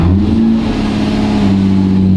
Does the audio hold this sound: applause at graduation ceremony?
no